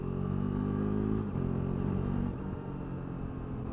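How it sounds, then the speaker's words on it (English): A KTM RC 390 motorcycle fitted with an Akrapovic exhaust runs close by, a loud steady engine drone that shifts pitch slightly as the revs change, without any talking. "That'll be the Akrapovic exhaust I've got on there."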